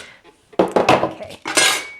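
A metal baking pan for whole wheat pizza crust handled on a floured counter, with a few loud close clanks and scrapes in quick bursts after a quiet start.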